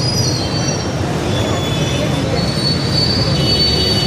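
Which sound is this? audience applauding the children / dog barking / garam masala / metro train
metro train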